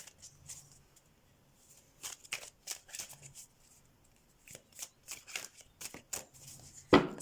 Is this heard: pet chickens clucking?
no